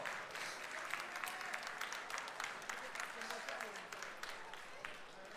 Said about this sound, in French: on peut vous applaudir bien